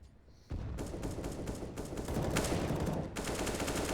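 Dense, sustained gunfire spam in CS:GO on the Vertigo map, rapid overlapping shots from about half a second on, loud and continuous with brief dips, no talk.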